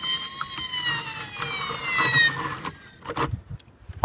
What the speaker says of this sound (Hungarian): Már jön is a tűzoltóautó.